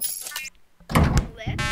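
A jammed door in the Henry Stickmin video game gives a couple of short, heavy thuds as it is tried, with game sound and some background noise around it.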